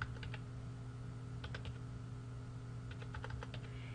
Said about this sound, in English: all I have to do is use my keypad and type in the date